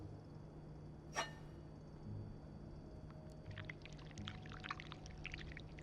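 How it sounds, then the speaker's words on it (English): In the video game This Bed We Made, wax is poured from a pot, a soft trickling, gurgling pour following a sharp click, fairly quiet over a low steady hum. "to start, we need to pour the wax from the pot"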